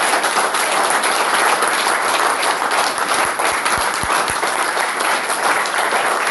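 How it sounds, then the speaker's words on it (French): A church congregation applauds loudly and continuously for the whole stretch, a dense, even wash of many hands clapping with a few sharper claps standing out. "Applaudissons pour le Seigneur, le plus fort possible."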